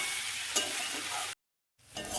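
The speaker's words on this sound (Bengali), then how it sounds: "এবার আলুটা আর এঁচড়টাকে আমি মশলার সাথে ভালোভাবে কষিয়ে নেব" Potato and jackfruit sautéed with spices in a hot pan, a loud continuous sizzle and stirring scrape up close, cut by a brief gap of silence before the frying resumes.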